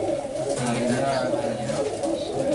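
A grey Columbus pigeon with yellow eyes coos softly, the low murmuring calls running steadily at close range under a man's speech.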